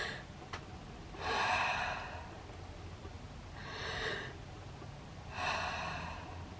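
Three loud, drawn-out breaths spaced a couple of seconds apart, each a rushing exhale like panicked heavy breathing during an anxiety attack, made by a person deliberately imitating it, with quiet pauses between.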